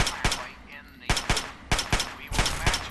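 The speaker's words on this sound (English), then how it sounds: "wanted to pretend to shoot it, and then I actually shot it" Gunfire from the video game Fallout 3, several sharp, loud shots spaced irregularly across the moment, with a few quicker bursts near the end, standing alone without talk.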